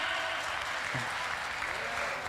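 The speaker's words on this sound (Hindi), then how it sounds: "अब ताली तो बजा दी" Audience applause at a Hindi hasya kavi sammelan comedy poetry event, a moderate, even wash of clapping with a brief voice breaking through near the middle.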